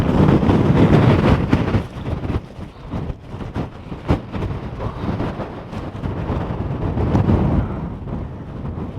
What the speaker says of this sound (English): if I stand up, you can see just how windy it is